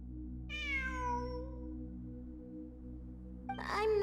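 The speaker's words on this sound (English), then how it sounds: "It really is a cat." A cat meows in Genshin Impact, one drawn-out falling meow over a steady droning game background, followed near the end by a shorter, harsher second meow.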